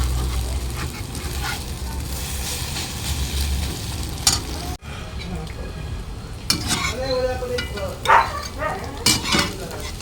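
Egg frying in a pan, a steady sizzle under scraping and stirring with a utensil against the metal pan, close and fairly loud.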